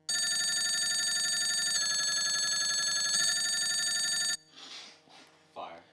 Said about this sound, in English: Telephone ring.